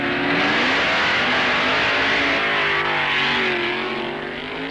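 Superstock drag racing cars at the 1970 NHRA Indy Nationals roar down the strip, with a loud, continuous engine howl that climbs in pitch as they accelerate and then fades slightly.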